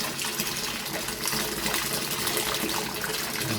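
Very hot water gushing from a hose into a Yard Machine by MTD 38-inch mower deck, filling it past the spindles, a steady close splashing rush with no voices.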